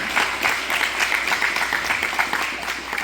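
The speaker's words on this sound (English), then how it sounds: "Can you raise your hands so we can give you a round of applause and congratulate you for doing this?" Audience clapping in a round of applause for firefighters of a Wisconsin fire district at an anniversary ceremony; steady, dense clapping throughout, fairly close and loud, with no clear talk over it.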